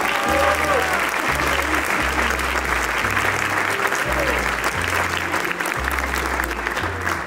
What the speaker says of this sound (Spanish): También fuerte el aplauso para ellos.